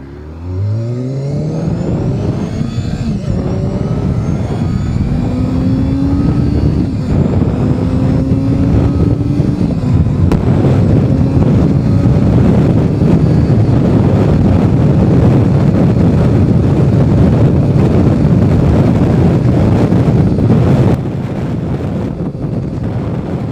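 A restored 1990s Honda race-style sport motorcycle is ridden, its engine revving up through rising gear pulls before settling into a loud, steady roar with heavy wind rush, close to the microphone and with no talking.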